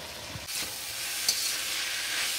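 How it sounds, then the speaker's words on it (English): Vegetables including broccoli fry for fried rice, giving a continuous soft sizzle with a few faint clinks and stirring scrapes against the pan. "Fry for 4 to 5 minutes."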